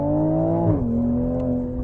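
Inside the cabin of a Toyota Supra or BMW Z4 sports car, the engine revs with a loud, smooth tonal drone. The pitch sweeps down partway through, then holds steady at a lower note.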